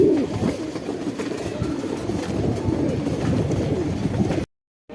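Shahjahanpuri pigeons in a loft give soft, repeated throaty coos, layered close together over a low background rumble before cutting off abruptly near the end.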